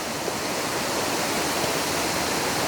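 Thararak waterfall in Mae Sot, Tak, Thailand, pouring down from the mountain: a dense, steady roar of falling water, loud and unbroken, with no voices.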